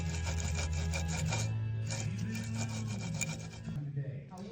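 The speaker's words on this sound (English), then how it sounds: "This bearing doesn't sound very good." A rough, grinding rasp from a worn, unsealed passenger-side wheel bearing on a Mustang spinning steadily, with a low rumbling drone underneath and faint scraping texture throughout.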